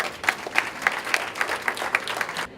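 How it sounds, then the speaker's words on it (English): An audience breaks into warm applause at an awards event, a steady crowd of clapping with evenly spaced sharper claps, moderately loud and sustained before tapering at the end. "Another round of applause."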